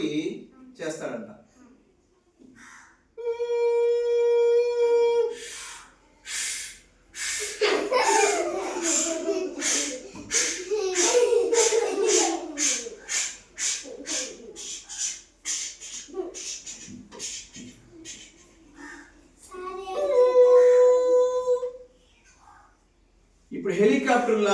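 A child mimics a passing train, producing a run of rapid rhythmic chuffing bursts between sustained whistle-like tones, repeated near and loud, with laughter and an adult voice around it.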